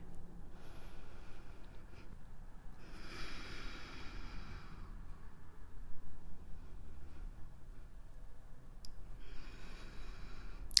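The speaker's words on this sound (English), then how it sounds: "Long inhales, long exhales here." Slow, deep yogic breathing during a seated shoulder stretch: two long, soft, airy breaths rise and fade over a quiet room, with no talking.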